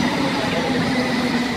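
A London Underground train rolls into a station on the Circle Line, a loud, steady rumble of wheels and carriages filling the platform.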